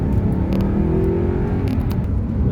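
An Audi R8 engine hums and builds steadily as it accelerates, a smooth rising drone heard from inside or close by.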